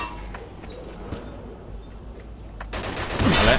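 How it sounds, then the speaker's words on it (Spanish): Homemade machine gun fire in Mafia II, scattered sharp shots crackling under a low background rumble before a louder burst of rapid gunfire swells at the end; no talking. "Es como una ametralladora hecha prácticamente en casa, tío"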